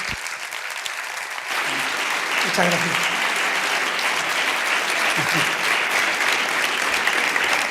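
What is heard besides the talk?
audience applause after a lecture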